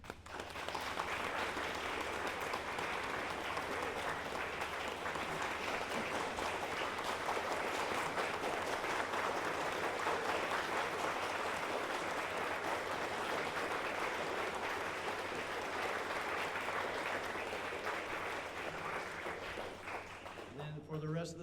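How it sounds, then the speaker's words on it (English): A troop gathering at a scouting court of honor breaks into sustained applause for new Eagle Scouts. The clapping is steady and dense throughout and fades only at the very end. "And a final round of applause for our Eagles."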